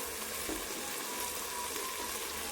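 Curry leaves dropped into hot oil with frying onions and tomatoes for a Mochakottai kolambu, giving a steady, close, continuous sizzle and crackle throughout with no talking.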